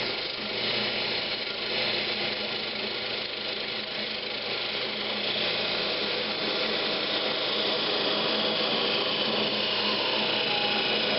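A wooden piece is parted off on a lathe, a continuous loud motor drone with a rough, grinding cut running steadily throughout, close up, with no talk.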